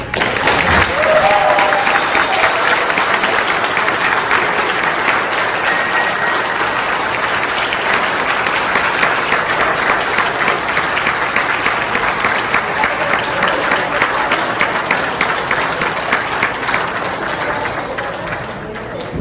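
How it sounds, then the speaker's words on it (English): Loud, sustained audience applause fills a convention hall at an Aliens panel during Days of the Dead in Las Vegas, dense steady clapping with a few whoops, lasting the whole stretch and tapering only slightly at the end. "the applause you gave us coming in today was the most we've ever had"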